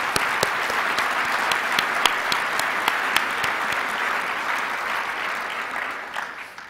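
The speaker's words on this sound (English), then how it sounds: "Please join me in a round of applause." A meeting audience at an annual awards session applauds steadily, a dense wash of many hands clapping with a few sharper claps standing out, fading slightly toward the end.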